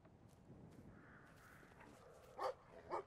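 Large dog in the video game Brothers: A Tale of Two Sons barking twice near the end, two short faint woofs over quiet game ambience.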